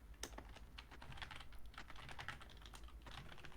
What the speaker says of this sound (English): The keyboard sound.